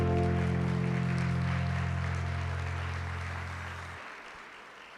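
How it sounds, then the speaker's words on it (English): An audience applauds at a USIPA national event, a steady wash of clapping under a sustained low tonal hum that cuts off near the end while the clapping fades. "Round of applause."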